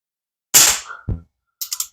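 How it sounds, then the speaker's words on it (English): A Crosman 1377 air pistol fires a single sharp, close shot, followed by a short metallic rattle and a few lighter clicks. "squeeze the trigger"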